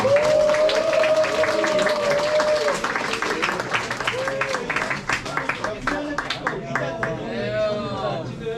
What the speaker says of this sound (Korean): 박수 한번 크게 부탁드리겠습니다.